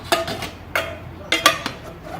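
Metal pots, fry pan and pot grips from a Trangia Storm alcohol-burner cooker set clank together in several sharp, close knocks spaced irregularly, with no talking.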